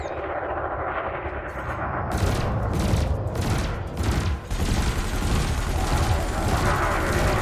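A spacecraft's multi-cannons fire at a drone in Elite Dangerous, a dense continuous rattling barrage starting after two seconds and running to the end over a steady engine hum.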